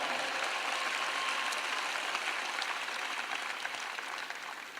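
Rally crowd applauding for a congressional delegation and legislators at a Donald Trump rally in Macon, Georgia, a steady wash of distant clapping from a large audience that fades slightly toward the end.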